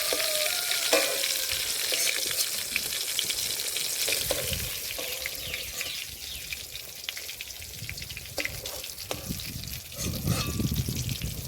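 Fish pieces frying in hot oil in a Bengali kitchen pan, a steady crackling sizzle with scattered pops and occasional scraping as pieces are lifted out, close and continuous with no voices.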